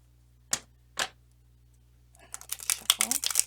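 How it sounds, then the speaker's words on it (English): A brand-new, stiff Santa Muerte tarot deck is shuffled: two crisp card snaps, then a rapid run of riffling flicks that grows busier and louder toward the end. "Let me do a quick"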